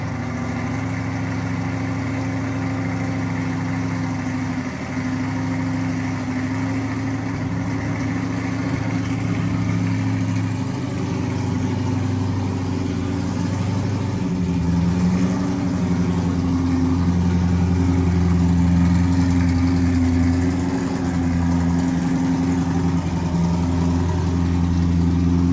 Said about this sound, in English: started up the engine and ran it until it got up to driving